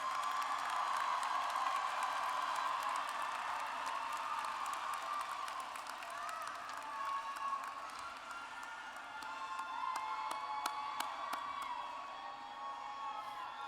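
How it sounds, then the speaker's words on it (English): Sustained applause and cheering from a graduation audience for graduates earning academic honors, high honors and highest honors: a dense, steady wash of clapping with whoops, continuing for over ten seconds. "Give them a round of applause."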